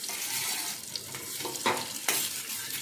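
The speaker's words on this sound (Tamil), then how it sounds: "இப்போ நம்ம வெட்டி வச்ச வெங்காயத்தை நம்ம இதில் போட்டுடலாம்." Chopped onions fry in hot oil with whole spices for beetroot biryani, a continuous close sizzle with a few sharper crackles and stirring scrapes.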